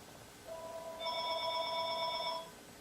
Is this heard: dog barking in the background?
no